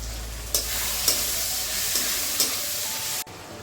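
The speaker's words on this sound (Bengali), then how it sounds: "ওটা কিছুক্ষণ ভাজা হোক" Ginger-garlic paste frying in hot oil in a pan gives a steady, close sizzle, broken by a few soft clinks of a spoon stirring, before the sound cuts off near the end.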